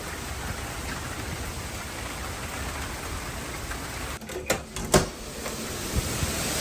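Hurricane Milton's outer bands in Orlando, Florida, bring a constant roar of wind and rain, broken by a few sharp knocks and rattles near the end.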